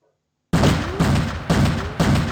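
Enemy gunfire breaks out in the X-Com Apocalypse tactical game after a short silence: four evenly spaced, loud, punchy shots or bursts, each trailing a brief rattle, with no voices.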